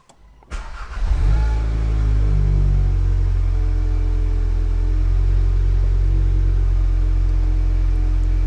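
A VW Mk7.5 Golf R engine cranks and catches with a brief rising burst, then settles into a steady deep idle rumble, close and loud throughout.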